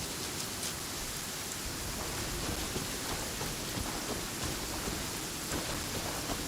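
Heavy rain downpour in the video game Genshin Impact: a dense, steady hiss of falling rain that holds evenly throughout, with no voices.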